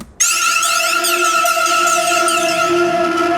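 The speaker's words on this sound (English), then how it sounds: "So doing some reverb on top of that and some Camel Crusher, my distortion of choice." A loud synth tone run through a phaser with heavy reverb and Camel Crusher distortion, sweeping, buzzing and sustained throughout after a brief silent start, with no voice.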